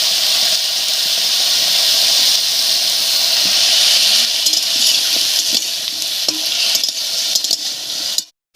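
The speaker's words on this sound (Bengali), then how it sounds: "ফোড়নের উপরে সজনে ডাটা আলু দিয়ে একটু নাড়িয়ে নিয়েছি" Drumsticks and potatoes are stirred in hot tempering oil with a loud, steady sizzle and hiss. A few light utensil scrapes come through close up before the sound cuts off abruptly at the end.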